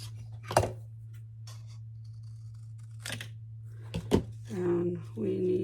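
Scissors cut paper strips to seven wide for a handmade ephemera box: three or four sharp, separate snips over a steady low electrical hum, with a rustle of paper handling near the end.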